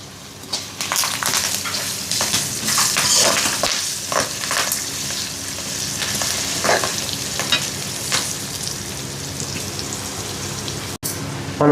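Curry leaves frying in hot oil in a pan for a ridge gourd chutney, a close, continuous crackling sizzle broken by scraping stirs and occasional spoon clinks.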